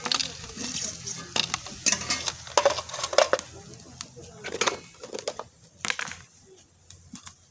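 Pumpkin lentil dumplings (kumro bori) fried in a pan and stirred with a utensil, giving repeated scraping clinks over a low sizzle, moderately close and irregular in rhythm.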